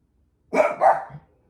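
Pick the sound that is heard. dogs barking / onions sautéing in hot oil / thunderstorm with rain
dogs barking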